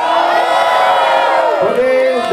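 An audience at an offair music event cheers and whoops loudly in a dense, continuous crowd roar, with shouts rising above the noise throughout.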